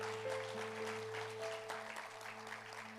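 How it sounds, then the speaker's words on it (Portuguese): A room full of people at a church service claps steadily, moderately loud, with a low steady hum underneath. "Dê um aplauso ao Senhor"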